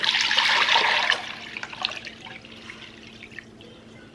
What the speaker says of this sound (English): all we're gonna do here is add in our water